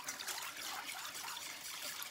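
Water being stirred to dissolve calcium pieces, a soft continuous swishing and trickling of liquid, close and steady with no talking.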